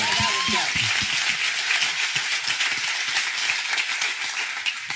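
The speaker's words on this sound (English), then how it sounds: "can we all give a round of applause to the black men who spoke life into another black man?" A crowd at a talk event claps steadily in a dense, even roar of applause that holds for five seconds, with a brief tone and faint voices at the start.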